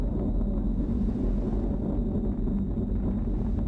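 Low, heavy rumble of an Atlas V rocket with its RD-180 engine and solid rocket boosters during ascent, a steady, distant broadband roar dominated by deep tones with no distinct bursts.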